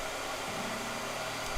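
A blow dryer runs continuously, a steady broadband whooshing hum at constant loudness with no pauses, close by and alone without speech.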